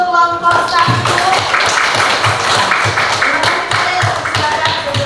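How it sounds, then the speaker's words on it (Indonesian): Students in a classroom applaud a student group, brisk clapping filling the room steadily for a few seconds, with faint voices mixed under the claps. "Tepuk tangan untuk kelompok 1."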